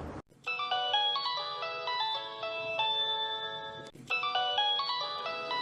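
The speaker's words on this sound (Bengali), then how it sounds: "তোর ফোন বাজতেছে, ফোন ধরস না কিন্তু?" A phone ringtone plays a repeating electronic melody, loud and clear, cycling twice with a brief gap between rounds.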